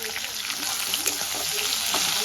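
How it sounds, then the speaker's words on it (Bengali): Three medium onions, sliced, frying in a pan on their way to light brown for an egg curry, giving a steady close sizzle with soft stirring scrapes throughout. "পেঁয়াজটা দিয়ে দিয়েছি এবার আমি এটাকে হালকা ব্রাউন করে ভেজে দেব"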